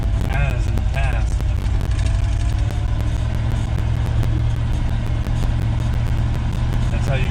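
A 1973 Ford F-250 engine runs steadily after a cold start in snow, a continuous low rumble heard close by while someone talks over it.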